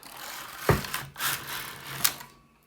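A Singer double bed knitting machine carriage knitting alpaca wool slides along the bed: a sharp click, a short rasping glide, then another click before it falls quiet, all close and without talk.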